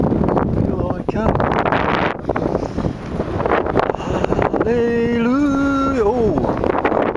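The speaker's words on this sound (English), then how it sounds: "strong breeze blowing here today" Strong breeze buffeting the microphone outdoors, a steady loud rush throughout, with a person speaking and briefly singing over it.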